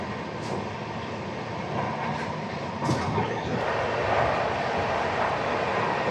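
A train running past Annavaram railway station: a continuous broad rumble and rattle of rolling wagons, heard close and steady, with a few faint squeals on top.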